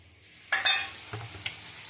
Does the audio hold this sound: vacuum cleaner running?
no